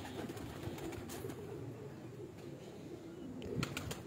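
A pigeon on a rooftop coos softly in low, rolling calls against faint background noise, distant and quiet with no talking.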